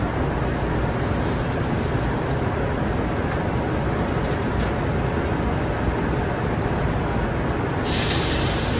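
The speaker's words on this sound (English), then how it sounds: "You get your pan hot. Put a little olive oil into your pan. A little fresh garlic." Olive oil and fresh garlic sizzle in a hot pan, a steady dense hiss that runs unbroken and fairly loud, swelling brighter near the end.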